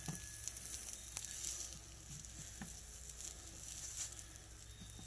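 Shrimp cakes fry in butter in a pan with a steady, quiet sizzle and faint crackling pops throughout.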